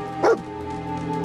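A single short dog bark from the video game Fallout 4, fairly close and loud, followed by a low steady game background hum.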